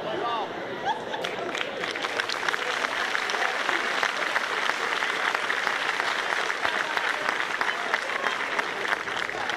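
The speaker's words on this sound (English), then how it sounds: "Nice round of applause for Jose," Crowd at a college softball game applauding in dense, steady clapping that continues throughout, with a distant murmur of chatter underneath.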